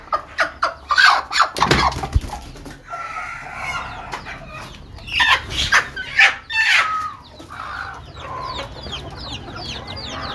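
A broody hen clucks repeatedly in uneven bursts, close and fairly loud, with some louder squawking calls mixed in among softer murmuring clucks.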